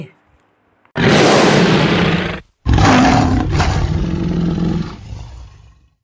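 Two loud, close tiger roars, a long rough bellow followed after a brief pause by a second, deeper one that slowly fades.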